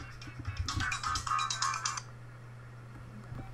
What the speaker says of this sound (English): wait, I'm being texted